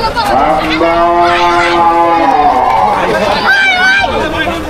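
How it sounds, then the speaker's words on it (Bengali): Cattle at a busy livestock market, with a drawn-out lowing call rising over a dense crowd of chattering voices and people talking nearby throughout. "ভয়ঙ্কর গরু"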